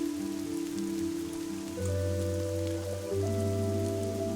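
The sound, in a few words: rain falling in the video game Fall of Porcupine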